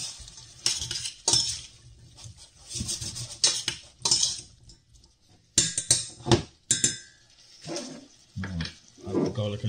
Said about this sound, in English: Add in the onions